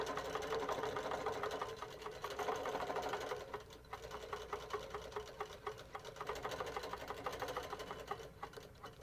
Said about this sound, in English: I'm going to hit my play button or my start button and start stitching a nice straight line